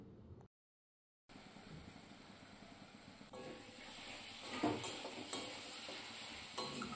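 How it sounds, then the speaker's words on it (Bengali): A spatula stirs and scrapes spice paste mixed with ground fish in a hot pan, giving a steady close sizzle and hiss. The sound starts after a brief silence and grows louder toward the end. "মাছ বাটাটা দেওয়ার সাথে সাথে দিয়ে কিন্তু খুন্তি দিয়ে খুব ভালো করে নাড়াচাড়া করে মশলার সাথে মিশিয়ে নিতে হবে"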